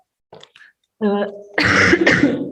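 A short throat-clearing followed by a couple of harsh, loud coughs, close to the listener.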